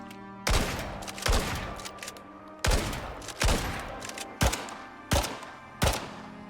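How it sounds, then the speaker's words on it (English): Gunshots in a video game ring out as about seven separate loud blasts, each with a sharp attack and a short decaying tail, spaced roughly every half second to a second against quiet gaps. "when you go to shoot stuff, the flash and the smoke shouldn't be as aggressive as it used to be"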